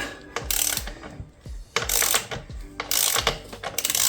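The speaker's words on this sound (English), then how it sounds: "on this bike needs a 32 millimeter socket, so we're just going to loosen that off" A ratchet with a 32 mm socket working loose the rear axle nut on a 2023 Honda CRF250R motocross bike: bursts of rapid metallic clicking alternate with pauses and thuds, close up and loud, with no speech.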